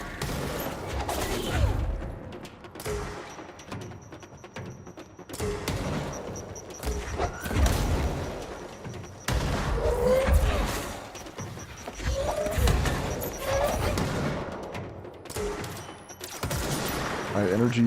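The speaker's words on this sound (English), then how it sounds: "Throwing bombs and stuff." Bombs thrown and exploding in the video game Control, a dense run of booming blasts and crackling gunfire-like bursts that come in repeated loud waves, close and continuous throughout.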